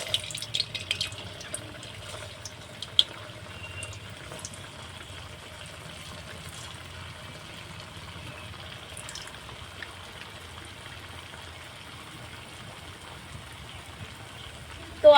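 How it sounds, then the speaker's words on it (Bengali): Gulab jamun made from milk powder fry in medium-hot oil, a faint, steady sizzle with occasional soft pops and a sharper knock at the very end. "তো এবার আমি একে একে মিষ্টিগুলো তেলের উপর দিয়ে দিচ্ছি।"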